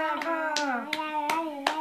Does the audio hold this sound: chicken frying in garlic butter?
no